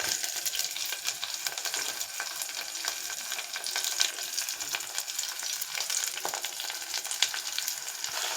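Prawn shells and brinjal curry base fry in a hot pan with a continuous close sizzle and hiss, broken by occasional stirring scrapes, with no talk.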